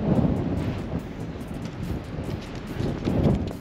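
Strong gusty wind outdoors in a residential subdivision, buffeting the microphone with low rumbling surges that rise and fall, with no talking.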